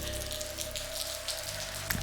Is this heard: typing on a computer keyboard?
no